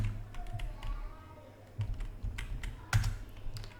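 Clicks and taps of a computer keyboard while a file-copy command is entered in a PuTTY terminal session, an irregular string of close keystrokes with a soft background hum and no talk.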